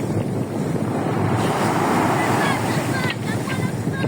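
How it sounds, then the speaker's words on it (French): Big ocean waves crash and roar at Fécamp while strong wind buffets the microphone, making a loud, constant wash of surf and wind noise with no break and no clear speech. "plus ça vient, plus les vagues elles sont énormes"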